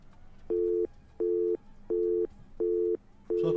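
Telephone busy tone after a dropped call on a live broadcast: five evenly spaced beeps with short silences between them, clear and alone over low background noise, the last cut off at the end.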